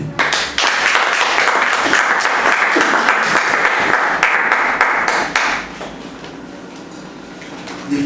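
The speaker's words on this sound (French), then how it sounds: "Acclame pour Jésus." A church congregation applauds in a steady, dense wash of clapping that holds loud for about five seconds, then thins and fades to a softer patter, with no voices over it.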